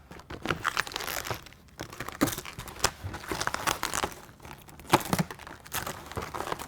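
A window deflector sticker for a Ford Ranger pickup is cut out of its packaging, giving irregular crinkling and crackling of plastic film with short snips and rustles, close and moderately quiet, without talk.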